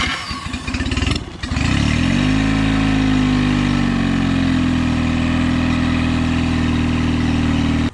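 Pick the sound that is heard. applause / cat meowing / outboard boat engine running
outboard boat engine running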